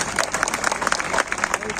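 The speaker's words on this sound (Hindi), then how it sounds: "ताली बजाइए, एनर्जी मिलती है।" An audience at a Hindi comedy poetry show claps, a short burst of scattered, lively applause from a crowd with a voice speaking over it.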